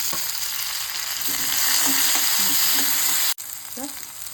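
Tomatoes tipped into a hot pan of frying pepper and cumin for a banana-stem bassaru, with a loud, steady sizzle and crackle, a brief stir-clatter and dip, then the spitting resumes.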